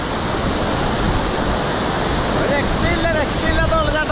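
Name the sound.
Punnayar waterfall, Idukki, Kerala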